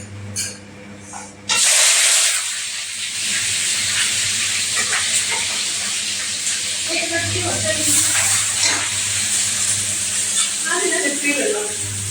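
A hot tadka is poured into saag in a kadai, setting off a sudden loud, steady sizzling hiss that carries on for several seconds while a person talks over it.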